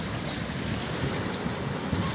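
Strong Pacific ocean waves surge against holed, wave-carved rocks, a continuous roaring wash with heavy wind noise on the microphone.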